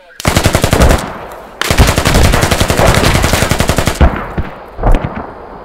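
Automatic gunfire in the video game Squad, loud rapid bursts of machine-gun fire, a short burst, then a long sustained stream, followed by a few scattered shots, close and dominant.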